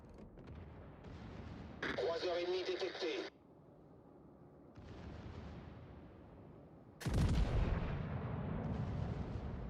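Naval ship guns booming in a battleship video game, with heavy low blasts and rumbling explosions in loud bursts amid game audio, and someone talking over it.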